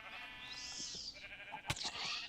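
A pink sheep in a video game bleats in a soft, wavering call, faint and a little distant, with a short sharp game sound near the end.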